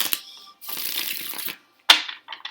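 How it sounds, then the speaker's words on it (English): Tarot cards are shuffled in two quick, close riffling bursts separated by short gaps, with a sharp tap and light shuffling near the end. "as I shuffle"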